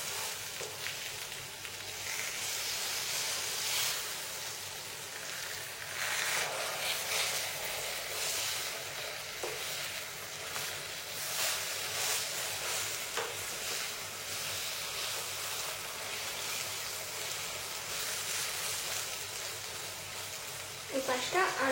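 Aubergine slices frying in a lidded pan, a continuous even sizzle with a faint crackle throughout, muffled and steady with small scrapes near the end.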